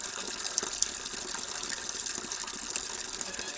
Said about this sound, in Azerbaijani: Bu günlər kəndin qız gəlinləri səhər tezdən bulaq başına gələrək bulaqdan su götürürlər.